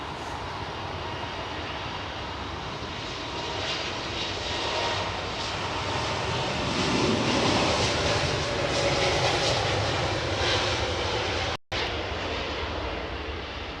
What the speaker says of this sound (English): So we have an Ethiopian 777 freighter coming out.